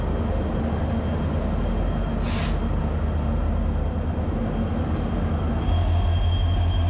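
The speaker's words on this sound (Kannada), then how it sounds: "ಈ ಟ್ರೈನ್ ಬಂದು ಕಾರವಾರ ಯಶವಂತಪುರ ಎಕ್ಸ್ಪ್ರೆಸ್ ಅಂತ" Karwar–Yesvantpur Express passing on the line, heard as a steady close rumble of wagons with a brief high hiss midway and a faint squeal, no talk.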